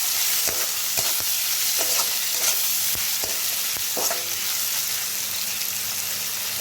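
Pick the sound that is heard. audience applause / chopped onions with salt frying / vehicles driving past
chopped onions with salt frying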